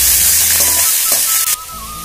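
Chopped ginger and green chillies sizzle loudly in hot oil while being stirred, a steady bright crackle with soft scraping, shifting in tone near the end.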